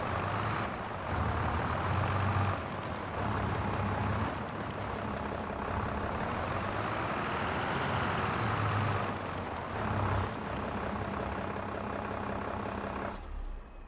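A steady, loud truck engine from a mod in Farming Simulator 22, droning continuously with slight shifts in pitch as it revs, plus a couple of brief hissing bursts like air brakes near the end, with no talk.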